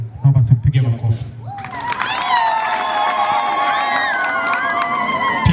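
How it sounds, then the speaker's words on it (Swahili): A crowd at a girls' secondary school's 25th jubilee mass bursts into high cheering, ululation and shouts after a spoken line, holding a loud sustained roar close by. "Naomba tupige makofi."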